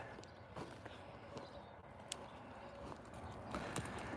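A young horse's hooves clip-clop at a steady walking rhythm on soft ground as it is worked in an oval, fairly distant and quiet over a low outdoor background.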